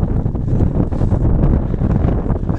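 Wind buffets an outdoor microphone as a low, rumbling, gusty roar that stays loud and continuous throughout, with no talking.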